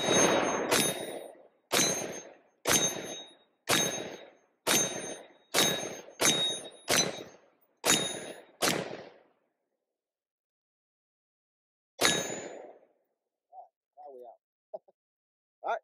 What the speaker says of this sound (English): let's take a few shots here first time and see if it functions.